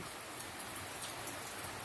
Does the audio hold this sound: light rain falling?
yes